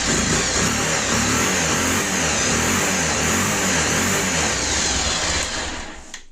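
A Bajaj Pulsar 220 motorcycle engine held under steady throttle, a loud, continuous close-up roar that runs unbroken and eases off only at the very end.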